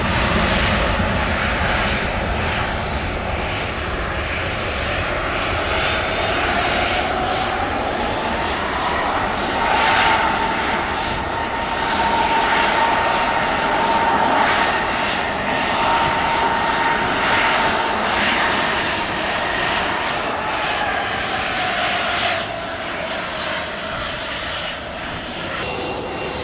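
An airliner accelerates down runway 07 at Montego Bay's Sangster International, its engine roar steady and loud for the whole stretch, a thin rising whine sweeping across as it rolls and lifts away.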